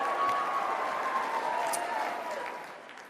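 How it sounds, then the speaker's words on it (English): A large conference crowd at CPAC in Orlando applauds a speaker, a full rolling ovation with some cheering mixed in, starting strong and gradually tapering off toward the end. "Give him a round of applause."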